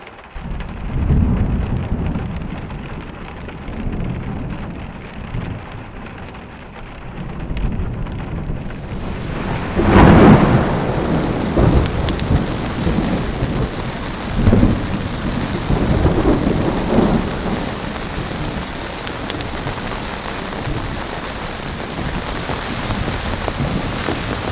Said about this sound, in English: Everybody, it is pouring out there.